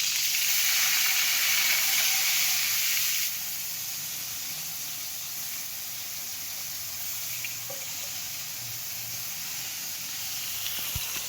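Sunflower-cut eggplant slices hit hot oil and sizzle loudly at first, then the frying hiss settles to a steady, quieter crackle, with a faint clink near the end.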